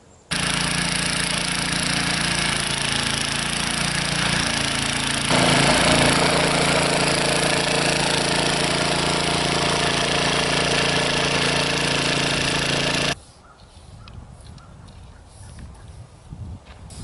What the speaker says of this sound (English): I'm just going to till that part up a second time here